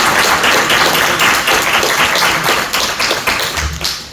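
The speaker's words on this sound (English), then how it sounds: "Can we get another round of applause for Nick for making this?" Dense audience applause at a talk about a daily Magic: The Gathering word game fills the room, many hands clapping steadily and loudly throughout with no voices over it.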